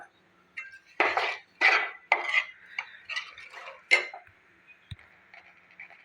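Spoon stirring a semolina and cardamom mixture in a pan for suji rasgulla, giving a series of sharp, close metallic scrapes and clinks in uneven bursts, then a single knock, separated by quiet gaps.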